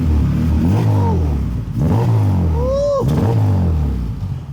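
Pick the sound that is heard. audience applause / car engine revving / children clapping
car engine revving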